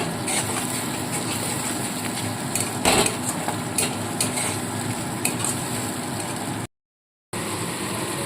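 Onions sauté in hot oil in a pan for fish rezala, a steady close sizzle and hiss with occasional stirring scrapes and clicks, briefly cutting to silence near the end.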